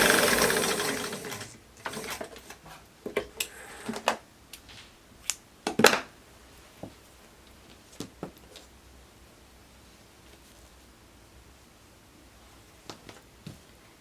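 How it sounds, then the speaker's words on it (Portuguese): Sewing machine stitching a seam on wide-leg trousers, a brief rattling burst of needle noise at first, then scattered mechanical clicks and knocks as the fabric is handled, fairly quiet and without speech. "E desse mesmo jeito você costura o outro lado para depois pespontar"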